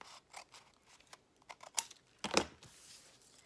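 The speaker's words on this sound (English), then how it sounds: "I'm going to have to cut that envelope up through there." Scissors cutting through a paper envelope for a handmade journal craft, a few quiet snips and crisp crunches spread over a few seconds, with one louder cut near the end, close and fairly faint.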